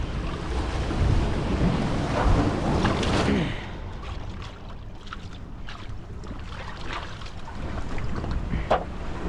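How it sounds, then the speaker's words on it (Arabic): Rough open sea churns around a fishing boat at sea, with broad wave rushes and wind buffeting loud at first, easing to a steadier wash with occasional splashes, no voices. "البحر اليوم راه طالع الخوت، راه المارية كبيرة هادي."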